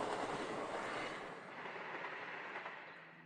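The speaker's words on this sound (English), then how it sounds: "Here comes a train from Crewe." A train passes a junction on the Midland Mainline, a broad rushing rumble that is loud at first and then slowly fades as it moves away.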